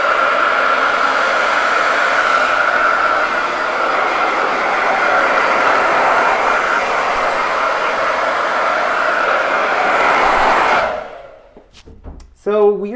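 A hair dryer blows steadily and loudly at close range while drying a homemade holiday window display, then cuts off near the end, leaving a brief moment of room sound and a short voice.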